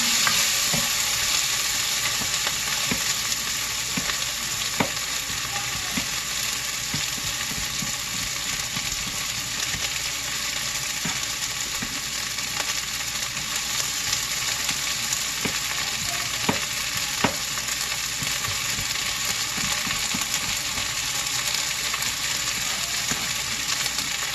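Cabbage and sausage frying in olive oil in a pan for soup, a dense, even sizzle running throughout with faint spatula clicks as the pieces are stirred around.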